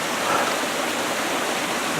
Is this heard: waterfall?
yes